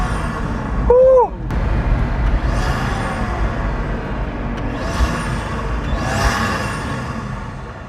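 Pagani Huayra supercar engine roaring at close range, with rising and falling revs as gears shift up and down, plus brief whooshes and a short voice exclamation over the engine.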